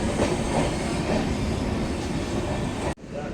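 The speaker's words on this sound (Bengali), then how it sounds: "আমাদের ট্রেন এখন ছেড়ে চলে যাবে বোলপুর শান্তিনিকেতন স্টেশন" Sahid Express, train 12347 on the Howrah to Rampurhat route, pulling out of Bolpur Shantiniketan station: a steady, loud rumble of wheels and carriages that fills the whole span, with a sudden brief drop in level near the end.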